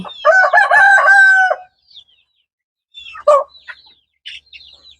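A rooster's drawn-out crow opens, followed by scattered short clucks and calls from poultry-farm chickens with fowl pox nearby, with quiet gaps between.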